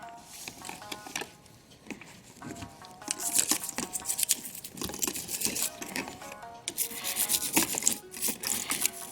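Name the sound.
scrubbing music box clock parts with a toothbrush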